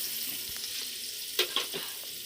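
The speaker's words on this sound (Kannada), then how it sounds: "ಈರುಳ್ಳಿಯನ್ನು ಫ್ರೈ ಮಾಡ್ತಾ ಇದ್ದಾರೆ." Onions frying in a pan for egg biryani, a bright steady sizzle with a couple of louder stirring scrapes, close up and without speech.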